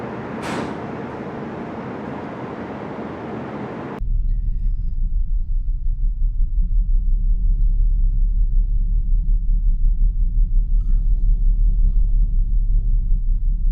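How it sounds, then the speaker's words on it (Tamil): A Finnline ferry's engine rumbles as the ship departs, a deep and steady drone that sets in after a brief lighter stretch and continues loud and unbroken, with no talking. "கப்பல் கிளம்பிடுச்சு."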